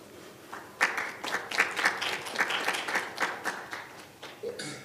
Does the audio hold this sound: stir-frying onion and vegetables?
no